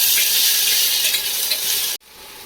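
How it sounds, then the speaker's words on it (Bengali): Onion stir-fried with salt, ginger and garlic in a pan, a steady close hiss and sizzle with scraping stirs that cuts off abruptly near the end, then fainter sizzling. "এবার এতে দেবো নুন আর দেব আদা রসুন, একটু নেড়ে নেব"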